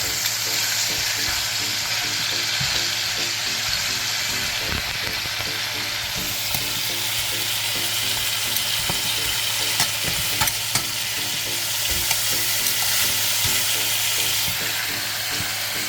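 Oxtail pieces searing in a hot pan, a steady loud sizzle with scattered crackles and pops running throughout, alone without talk.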